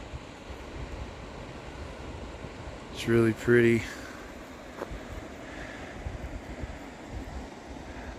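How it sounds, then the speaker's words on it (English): A river runs down a canyon on the Colorado Trail with a steady, distant broadband rush, and a person speaks briefly over it. "Here's a beautiful shot of the river. This runs all the way down the canyon."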